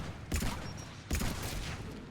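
Gunfire in the video game Mass Effect 2, two loud broadband bursts about a second apart, each a sharp crack followed by a sustained fusillade wash that carries on between and after them.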